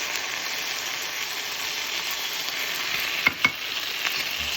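Chicken and cabbage in mustard sauce stir-fried in a pan, a steady close sizzle with two sharp scraping clicks of the utensil near the end, no talking.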